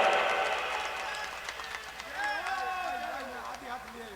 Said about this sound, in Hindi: 51 बीघा, जोरदार तालियां।